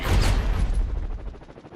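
In the Heliborne combat game, a rapid burst of gunfire rattles out, loud at first and then trailing off into a decaying rumble over under two seconds.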